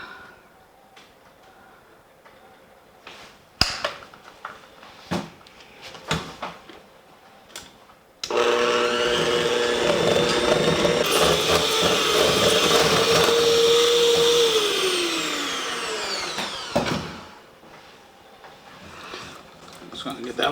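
Electric mixer creaming icing sugar into cream cheese frosting for cinnamon rolls: after a few clanks and taps, a loud steady motor whir runs for about nine seconds, drops in pitch as it slows, then stops; a voice talks briefly.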